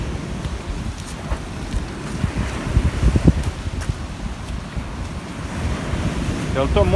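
Sea waves wash onto a beach in Greece, a steady broad rush of surf with wind buffeting the microphone and a few brief voices in the background.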